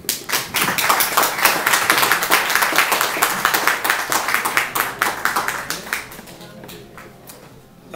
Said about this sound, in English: will you give a big round of applause for Bob Burke?